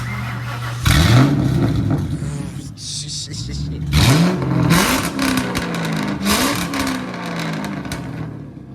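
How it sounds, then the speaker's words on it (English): A straight-piped New Edge Ford Mustang GT engine is revved hard several times, each blip rising and falling in loud, raspy bursts over a rumbling idle, with people talking nearby. "don't be scared to rev it, bro"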